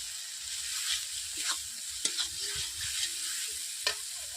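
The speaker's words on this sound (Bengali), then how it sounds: "মশলা কষানো হয়ে গেছে দেখতেই পাচ্ছেন মশলা থেকে তেল ছেড়ে যাচ্ছে" Spiced masala paste for a spicy brinjal (eggplant) curry sizzles steadily in hot oil while being stirred, with a few sharp scraping clicks of the spoon against the pan, close and moderately loud with no talk.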